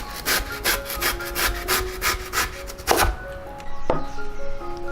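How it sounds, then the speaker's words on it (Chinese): A knife slices lotus root into very thin pieces on a cutting board, making a steady run of close, crisp strokes that ends in a couple of final cuts, with soft musical tones underneath. "取中间比较宽的部分，然后给它切成薄片，一定要尽量切得很薄很薄。"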